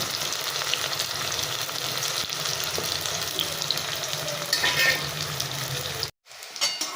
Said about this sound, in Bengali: পেঁয়াজটা আমার হালকা একটু ভাজা হয়েছে